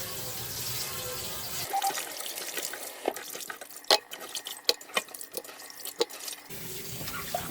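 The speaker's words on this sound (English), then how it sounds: "So I'm going to give it its first wash." Raw duck pieces being washed in a sink with running tap water, irregular splashes and clunks as the meat is handled, with the water flow stopping partway and then resuming, close and fairly quiet.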